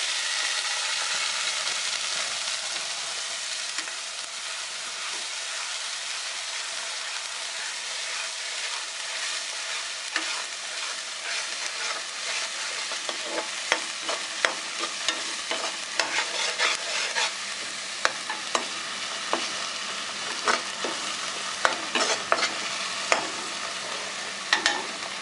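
Ground masala paste frying for vegetable korma, a dense continuous sizzle with a steady hiss throughout and scattered crackles and stirring scrapes growing more frequent in the second half, with no voices.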